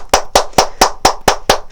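Eight sharp hand claps land at a quick, regular pace, near and loud, as part of a short office yoga practice; no voices accompany them.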